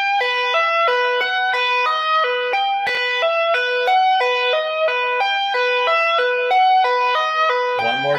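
Electric guitar played with two-handed tapping, a fast continuous stream of ringing arpeggio notes in a steady repeating pattern with a slightly processed, sustained tone, close and without any talking.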